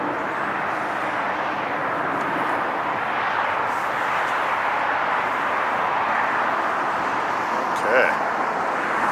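A Delta Airbus A319 jet arriving from Kansas City at LAX airport, a broad steady roar of engine noise that holds at an even level throughout with little change.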